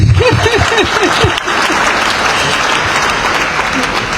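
Sustained audience applause at the official launch of an Executive Mansion communication internship, dense and loud throughout, with a voice speaking briefly over the clapping at the start.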